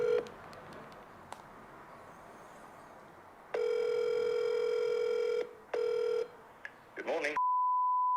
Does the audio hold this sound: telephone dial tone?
yes